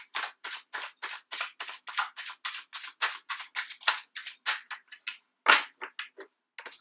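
Tarot cards shuffled by hand make a quick series of crisp, dry riffling snaps in an even rhythm, close and fairly quiet, with no talking.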